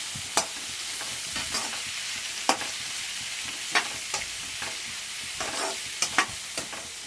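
Egg fried rice stirred in a pan over a soft continuous sizzle, with scattered sharp scrapes and taps of the spatula against the pan at irregular intervals.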